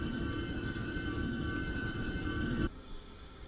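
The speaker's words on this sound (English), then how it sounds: "Especially with all the trains coming in and out, the freight going straight through the middle." A freight train passes straight through a station on the Bremen–Oldenburg line in Train Sim World 3, with a steady rumbling roll and a faint whine that cut off abruptly, leaving quieter ambient hum.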